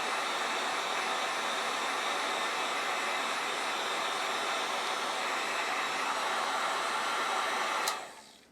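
Hot air tool blowing continuously to heat the tail end of a stiletto scabbard, a loud steady rushing roar held close for several seconds before cutting off abruptly.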